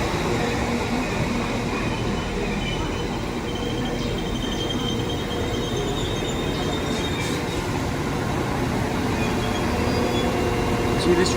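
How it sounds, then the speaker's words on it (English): A double Class 195 diesel unit heading to Chester departs Newton-le-Willows station, a loud continuous rumble of engines and wheels with occasional high wheel squeals throughout. "Train now departing is a double 195 going to Chester."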